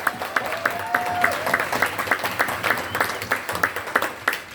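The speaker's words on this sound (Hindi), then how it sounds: "जोर से पीछे से ताली बजनी चाहिए एक बार।" Seminar audience at a network marketing event in a hotel hall clapping in a steady burst, individual claps distinct and fairly close, with a faint tone drifting through.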